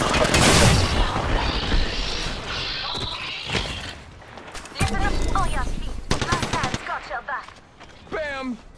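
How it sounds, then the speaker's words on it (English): Gunfire in the Apex Legends video game: rapid bursts of automatic shots and sharp reports crackle loudly through the scene, mixed with game voice callouts and other effects. "Shots fired, and they're hitting me."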